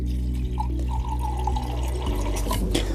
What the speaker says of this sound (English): I like to put a little cold water in my cup first, and then I'll add the hot water